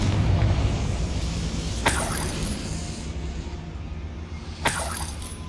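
The Confringo fire spell goes off in Hogwarts Legacy as two sharp, bright blasts a few seconds apart over a rumbling, busy game background.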